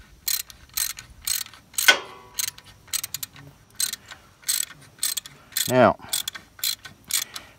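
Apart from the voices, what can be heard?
cranking tap by hand to remove VW 1600 starter bushing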